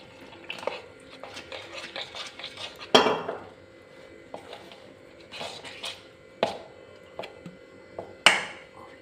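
Spoon clinks and scrapes against a metal bowl while pazhampori batter with sugar and cardamom powder is mixed, with irregular sharp knocks and softer stirring sounds, close and moderately quiet.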